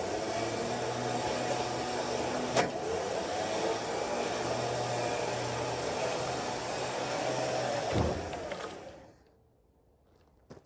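An electric winch hauls logs onto a homemade logging arch trailer, a steady close whirring motor drone that holds for about eight seconds and then winds down into quiet, with a knock partway through.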